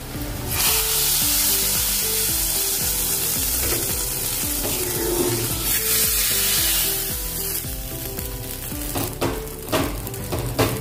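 Crushed unpeeled garlic and a spoonful of Kashmiri chili powder fry in a pan for a spinach dish, giving a steady, loud sizzle that runs throughout with tonal background music underneath.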